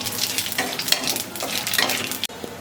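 Black cumin and fennel seeds crackle in hot oil alongside dried red chillies and bay leaf, the tempering sizzling close up while a spoon stirs and scrapes the pan, ending with a sharp knock.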